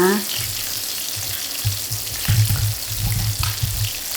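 Tilapia fries in a pan over moderate heat, giving a close, crackling sizzle that swells and fades in uneven bursts, with faint kitchen noise around it.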